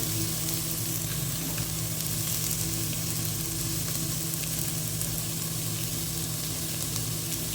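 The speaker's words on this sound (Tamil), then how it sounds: "ஓகே நம்ம இப்போ ஃப்ரை ஆகிட்டுருக்கு" Masala-coated sankara fish fries in a pan with a loud, steady, close sizzle that holds evenly for the whole stretch, with no talking.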